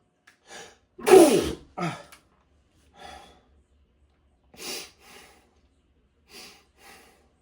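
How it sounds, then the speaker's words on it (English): One loud, explosive sneeze bursts out close by, followed by a few quieter gasps and sniffly breaths. "I sneeze all the time, though."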